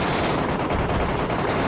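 Dense, loud automatic gunfire with incendiary bullets in a mobile escape shooter game, continuous rapid bursts filling the whole moment at close range, no pauses and no talk.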